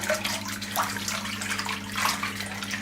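Water sloshes and swirls in a basin mixed with synthetic-hair conditioner, a steady wet churning with soft surges, close and fairly loud, with no speech.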